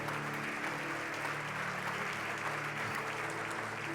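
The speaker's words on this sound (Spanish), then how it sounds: "Un aplauso." Steady congregational applause at a church service, a continuous wash of many hands clapping at moderate distance, somewhat quiet, over a sustained low musical drone.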